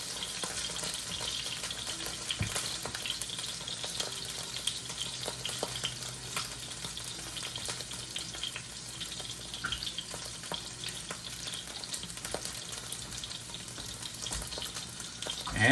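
Salmon fillets pan-searing in a hot pan give a steady, continuous sizzle and crackle with small pops throughout, moderately loud and close, with no talking.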